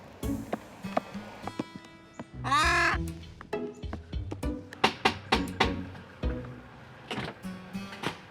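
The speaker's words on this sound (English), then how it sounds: "In Bondi, Kate and her noisy rescue crow Colin are on the move" A young rescue crow in Bondi caws loudly and repeatedly in harsh, close calls, with a brief burst of other birdsong partway through and no talking.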